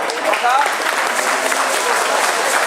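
Crowd applause at a podium ceremony after a 10 km running race in Gdynia, steady outdoor clapping at fairly close range with a voice heard briefly near the start.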